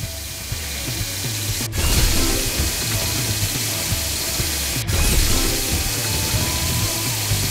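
A drill in a PAW Patrol movie video game on PS5 whirs and clicks in a continuous ratcheting mechanical grind, with two brief pauses in the loop.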